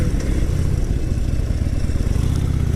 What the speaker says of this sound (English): note to self, do not try jumping the ramp on the Harley Sporty